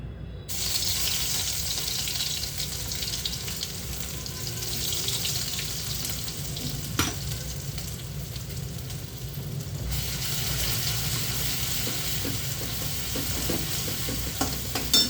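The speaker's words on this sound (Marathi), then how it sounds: "हे आता तेलामध्ये मी अद्रक लसूणची पेस्ट टाकत आहे." Ginger garlic paste fries in hot oil in a home kitchen, giving a steady close sizzle with occasional scraping stir noises throughout and no talking.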